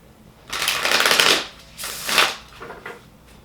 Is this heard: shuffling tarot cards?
yes